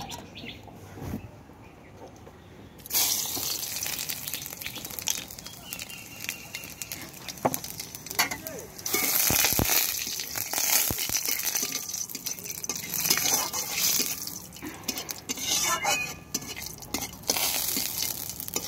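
Spices hiss and sizzle in hot oil in a wok as they are tempered, a steady bright crackle that starts suddenly and continues near and loud, with faint birdsong in the background.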